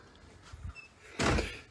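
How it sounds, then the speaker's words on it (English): An indoor door is pushed shut, giving a single firm thud and latch click after a brief shuffle of movement. "shut the door."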